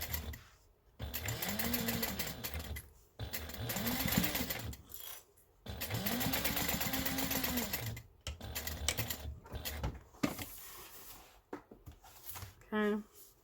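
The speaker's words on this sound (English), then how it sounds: "So I'm just going to sew through all those layers." A sewing machine stitches through several layers of fabric in long steady runs with short pauses between, loud and close, ending with a brief different mechanical whir.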